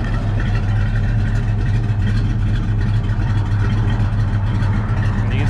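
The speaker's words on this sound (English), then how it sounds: "It's got a nice set of exhaust pipes on it, so it sounds pretty good." A 1969 Chevelle's throaty engine idles steadily through aftermarket exhaust pipes, a deep low rumble holding constant throughout with no talking.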